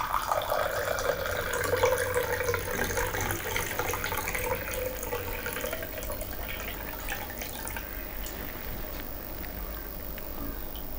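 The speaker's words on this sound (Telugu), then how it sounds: "చూడండి, వైట్ కలర్ వాటర్ మీ ముందు వేస్తున్నాను." Tap water running and pouring into a glass, a steady splashing stream that is fuller at first and thins to a softer, even flow, with no talk.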